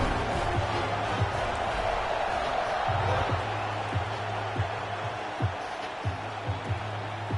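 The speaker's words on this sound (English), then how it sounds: "this crowd now ready to get behind them" A stadium crowd roars in the NCAA 26 college football video game, a dense, steady wash of cheering that fills the whole stretch at a moderate level, with a low recurring tone underneath.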